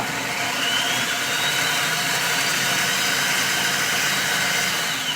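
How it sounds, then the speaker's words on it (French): A kitchen robot mixes strawberry mousse ingredients with a steady whirring motor drone whose pitch rises slightly as it spins up, continuous and even, with no speech over it. "pendant 10 secondes, il va mixer en fait tout ce petit monde"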